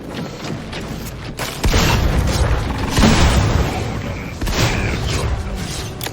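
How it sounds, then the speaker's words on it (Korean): A grenade explodes in the video game Cyberpunk 2077: faint mechanical clatter gives way to a sudden loud rumbling boom that rolls on as a sustained roar with further bursts. "수류탄 맞았다."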